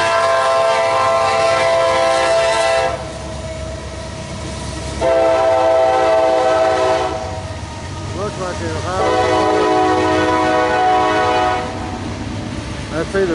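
A freight train rolls by on the railroad, its horn blaring loud in repeated long blasts over the rumble and clatter of passing cars, with some talking mixed in.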